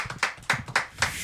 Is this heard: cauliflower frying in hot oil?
no